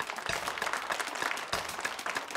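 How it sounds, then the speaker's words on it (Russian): Studio audience applause at a 1990s Russian lottery TV show, dense steady clapping throughout welcoming a music group on stage, loud and continuous with no pauses. "Пока мы аплодируем этим молодым людям авансом"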